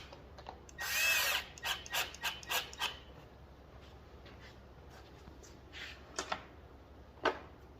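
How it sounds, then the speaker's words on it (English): Short bursts of a power drill whirring in quick succession, then a few isolated brief buzzes with quiet pauses between, during carburetor replacement on a Stihl BG 55 blower. "I'm using this drill."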